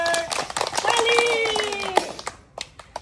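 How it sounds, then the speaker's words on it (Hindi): Audience clapping at a village stage show, scattered uneven hand claps heard up close, mixed with a tonal voice or music and fading near the end. "सबसे पहले मुखिया के लिए जोर से ताली बजाइए"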